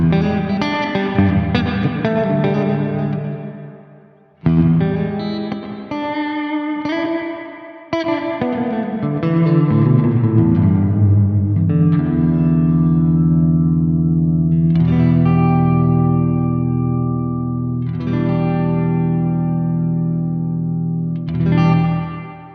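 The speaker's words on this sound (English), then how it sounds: "It's quite a big room at the moment, so I think we'll bring the reverb time down a little bit" Guitar chords ring out through a Chase Bliss Meris CXM 1978 reverb pedal with shimmering chorus and spacious big-room reverb, the notes smearing and swelling into long washy tails with brief dips between strums.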